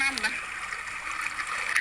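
Water flows steadily at the spot where a phone fell in, a continuous hissing rush of stream noise that stays fairly faint throughout, with a brief voice near the start.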